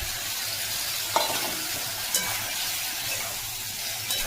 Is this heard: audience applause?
no